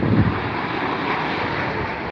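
An American Airlines Boeing Dreamliner airliner at London Heathrow, a steady broadband jet roar with wind buffeting, fairly loud and continuous, no talking.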